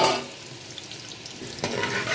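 Onions and whole garam masala spices fry in hot oil for a Guntur-style mutton yakhni biryani, a close bright sizzle with stirring scrapes that swell toward the end, no speech.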